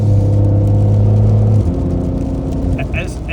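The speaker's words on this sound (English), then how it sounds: "I think it's pretty cool. Like you hear the engine and everything," Inside a Porsche 992 Dakar driving through deep snow, the engine gives a loud, steady low hum that shifts pitch partway through, with people talking over it in the cabin.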